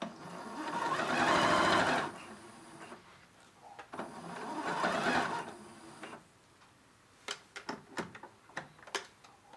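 Sewing machine stitching across the top of fabric pleats inside the seam allowance: two quick bursts of rapid mechanical chatter, then a run of separate clicks and ticks, heard close with no talk.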